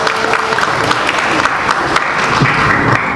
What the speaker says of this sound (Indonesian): Tepuk tangan untuk Pak Pendeta Muriwale.